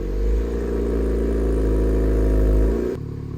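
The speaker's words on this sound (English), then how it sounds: "Give it a little rev." A 2018-2023 Honda Accord fitted with an upgraded active exhaust revs hard, the engine climbing into a loud, sustained drone up close before dropping back to a lower idle.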